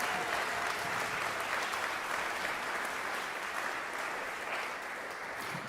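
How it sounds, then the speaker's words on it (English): An audience claps steadily throughout after a jazz ensemble concert at a music camp, a dense wash of applause at moderate distance with no talking. "Let's give them another round of applause."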